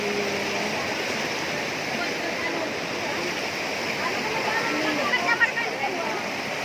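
River water flows steadily and broadband throughout, a continuous near rush with a few brighter splashes late on, as women are out eating above the river.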